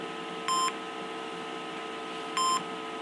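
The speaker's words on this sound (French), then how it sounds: "ça fait un petit bip, vous voyez" Two short electronic beeps, evenly spaced about two seconds apart, sound clearly over a steady low hum.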